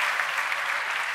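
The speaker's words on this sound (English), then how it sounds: "make some noise for my DJ, please?" Dense crowd applause with scattered cheers for a DJ at a live event, a continuous wash of clapping throughout.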